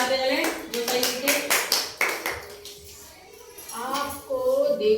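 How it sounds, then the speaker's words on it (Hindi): Children clap in a classroom during a solar system quiz, sharp bursts of hand claps mixed with a teacher talking, with a brief lull before more voices return. "तालियां बजाते चले जो सही लिखे।"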